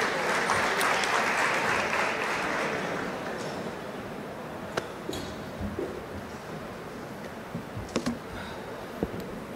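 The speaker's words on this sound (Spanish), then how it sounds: "los recibimos también con un aplauso" Conference audience in Buenos Aires applauding, a dense loud wash of clapping that fades after a few seconds into scattered claps and quiet room noise.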